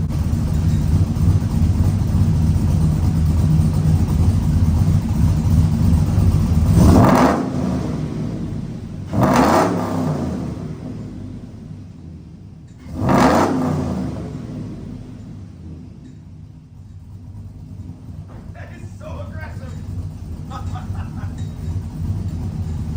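Truck engine fitted with Flashark Racing stainless headers, cold air intake and a MagnaFlow dual-out exhaust, revved three times in quick succession, each sharp surge rising over a steady deep rumble and settling back toward idle.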